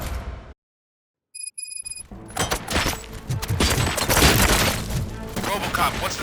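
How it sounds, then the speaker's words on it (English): After a brief silence and a few electronic beeps, chaotic gunfire and crashing impacts erupt in the video game Robocop: Rogue City, dense and loud, with voices shouting amid the barrage. "Gunshots? What's going on?"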